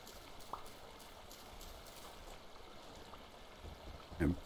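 Flowing water of a stream in the Vintage Story game, a faint steady trickle and babble running underneath throughout, with a brief louder splash-like knock near the end.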